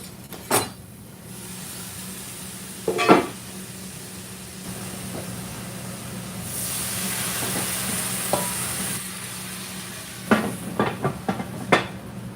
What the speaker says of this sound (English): We'll deglaze that one more time for that.